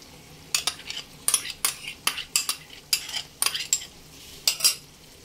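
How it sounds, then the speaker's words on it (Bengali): Chicken is stirred with sour yogurt in a kadai over low flame, a metal spatula scraping and knocking against the pan in a quick, uneven rhythm of loud, close strokes, a faint sizzle underneath and no speech. "টক দই দিয়ে লো ফ্লেমেই প্রায় 2 থেকে 3 মিনিট খুব ভালোভাবে কষিয়ে নিতে হবে।"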